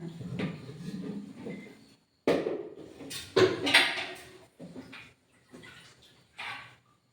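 Fenugreek seeds and rice are washed together in a bowl of water, giving several separate bursts of swishing and sloshing with short quiet gaps between them, close by and fairly clear.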